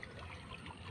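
Water splashes and churns steadily as a person swims quickly across from one side to the other, a close, continuous rush of sloshing strokes with no voices.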